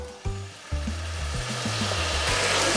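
Cooked-down onions sizzle steadily in a pan as white wine vinegar goes in to deglaze, a close, continuous frying hiss with a few soft knocks early on and the sizzle swelling toward the end.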